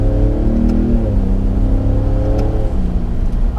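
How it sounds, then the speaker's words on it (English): A 2017 Ford F-150 Raptor pickup accelerates hard, its engine note loud and close, rising in a steady drone with a brief dip partway through as it shifts before building again, no voices. "So let's do another little acceleration."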